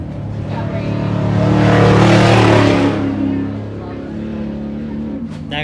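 A powerful off-road race truck engine roars in at a high desert race, swelling loud as it passes close, then fades into the distance.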